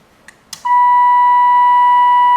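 A Pioon M2 laser engraver set to maximum volume gives a couple of faint clicks, then a loud, steady high-pitched electronic beep that holds alone to the end.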